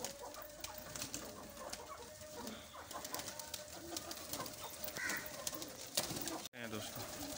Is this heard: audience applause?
no